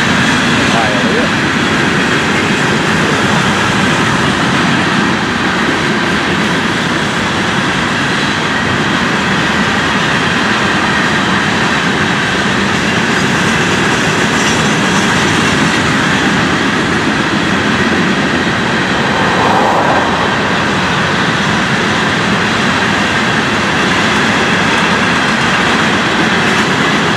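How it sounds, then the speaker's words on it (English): A Florida East Coast freight train with hopper and cement cars rolls past close by, giving a loud, steady roar with wheel clatter throughout, and a voice talks over it. "The hopper cars and cement cars that you see here will be forwarded to Bentley, about 11 miles northwest of Hialeah."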